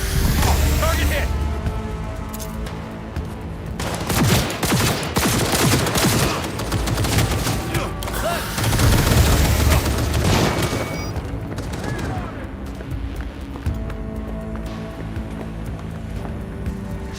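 Rapid bursts of gunfire in a Cyberpunk 2077 firefight, dense volleys and automatic fire crackling and booming in clusters, loud and close, with shouted combat voices mixed in.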